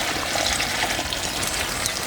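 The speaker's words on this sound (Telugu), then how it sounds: "అలాగే ఒక అర గ్లాసు నీళ్ళు కూడా పోసుకుందాం." Half a glass of water pours into a pot of hotel-style poori kurma with masala paste, a steady close trickle and splash lasting about two seconds.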